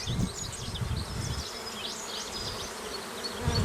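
Honey bees buzzing in an open hive during a requeening check, a dense, steady, close swarm drone with individual bees whining past.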